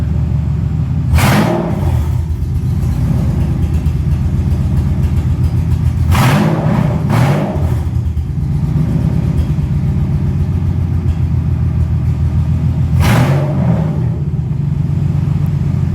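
A Mercedes SL600 engine runs steadily with a newly installed transmission put into drive while low on fluid, a loud continuous rumble with a few brief sharp swells.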